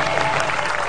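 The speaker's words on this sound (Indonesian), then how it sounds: "tepuk tangan dulu buat 3 tahun saya" Brief burst of audience clapping in a television talk-show studio, dense and even for under a second.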